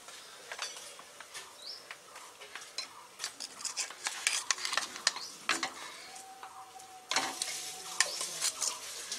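Three eggs and potato pieces going into a pressure cooker for egg biryani, stirred with a metal spoon, producing faint clinks and scrapes over a soft sizzle, with irregular spoon taps throughout.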